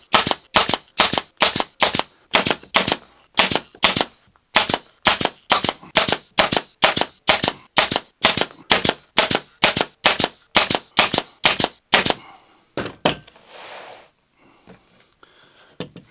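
A staple gun fires staples into a vinyl door card in a quick, steady series of sharp, close snaps, with a brief pause partway through. The snaps trail off into a few scattered handling sounds at the end.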